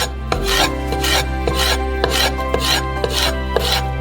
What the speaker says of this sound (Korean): 피망에서 펄프를 발라내고 작은 조각으로 썰어주세요.